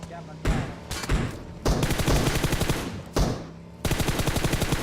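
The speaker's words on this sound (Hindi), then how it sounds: "लेकिन किसी ने साइड से फायरिंग करी है।" Automatic gunfire from the PUBG video game rattles in several sharp bursts of rapid shots, loud and close, separated by brief pauses.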